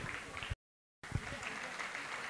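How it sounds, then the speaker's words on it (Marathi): An audience at a school annual function claps for a student, soft applause under a speaking voice, cut by a half-second gap of silence before the clapping resumes. "जोरदार टाळ्या वाजवूयात सूरजसाठी"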